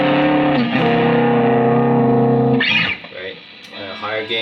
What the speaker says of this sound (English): Yeah, just a light grit like this, and then you have your typical overdrive